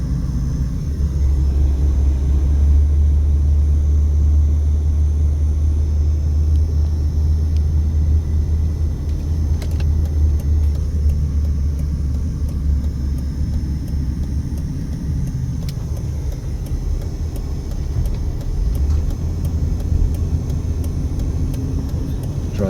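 A car drives slowly through a residential neighborhood in East Las Vegas, its engine and road rumble steady and close throughout, with no talk and no other notable sounds.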